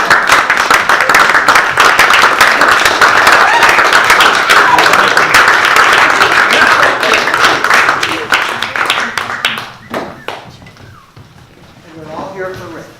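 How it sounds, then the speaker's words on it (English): Audience applause welcoming an improv comedy company onstage at a live comedy night, a loud sustained burst of clapping that fades out after about ten seconds, followed by quieter room sound and a few voices. "a round of applause for the company"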